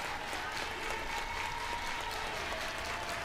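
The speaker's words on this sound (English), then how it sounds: "Crowd's into it early here in Baton Rouge." A crowd at an NCAA softball game between LSU and Virginia Tech in Baton Rouge applauds steadily, a dense, continuous patter of clapping heard from a distance.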